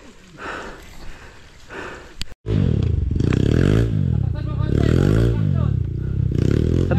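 A motorcycle engine roars loud and close with a pulsing, surging drone, and a sharp clack comes just before it starts. Voices talk and exclaim faintly underneath.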